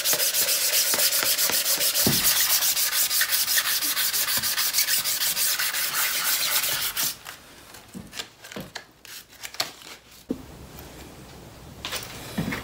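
Fine 1200-grit sandpaper rubbed by hand across a Porsche 928 cylinder head, steady rapid back-and-forth scraping for about seven seconds, then slower, sparser strokes and pauses, close and fairly loud.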